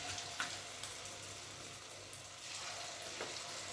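Broccoli pieces dropped one by one into hot oil, giving a soft, steady frying hiss with a couple of brief splashy bursts, fairly quiet and close.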